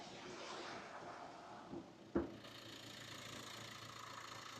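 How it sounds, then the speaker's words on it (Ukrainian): A Nissan Qashqai J11 1.5 diesel engine idles with a steady, even rumble, broken once by a short knock midway before the hum carries on unchanged. "Мотор працює чітко, рівненько"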